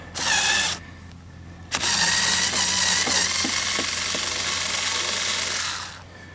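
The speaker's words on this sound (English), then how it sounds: "All one needs to do is loosen the screw." A screw being loosened on the rear side light of a Chevy HHR, a loud whirring tool burst lasting under a second, a brief pause, then a sustained grinding whine of about four seconds that fades out.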